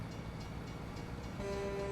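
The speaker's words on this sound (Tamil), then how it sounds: "ட்ரெயின் வருது" Train passing in the American Truck Simulator video game, a faint steady rumble of rolling wagons with a sustained horn tone entering near the end.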